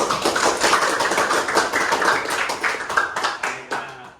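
Classroom applause from students during a computational thinking lesson, a steady dense patter of many hands clapping close by for the full length, with a few louder claps standing out near the end.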